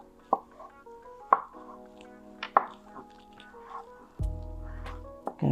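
A knife chops salad vegetables on a board in a few separate, crisp strikes spaced about a second apart, heard over faint background music.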